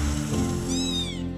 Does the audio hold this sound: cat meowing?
yes